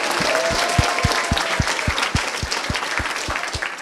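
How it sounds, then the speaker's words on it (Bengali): At a school quiz competition, a crowd of students and audience claps for a prize winner, steady loud applause with an even, rhythmic beat running through it. "জুবায়েরের জন্য হবে জোরে একটা হাততালি।"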